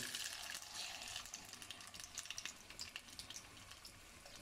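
Pieces of rahu fish sizzle in hot oil in a small karahi, with a steady crackling hiss and faint popping spatters throughout. It stays quiet and close, with no talking.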